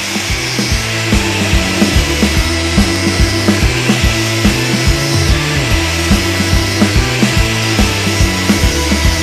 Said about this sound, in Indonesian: Dan dilanjutkan finishing memakai mata gerinda amplas.